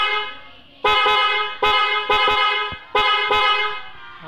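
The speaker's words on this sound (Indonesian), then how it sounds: "Pasang klakson" A loud, shrill Pia snail-type horn on a Honda CBR250RR motorcycle honks in several bursts, some short taps and some longer blasts, close and sharp against a quiet background.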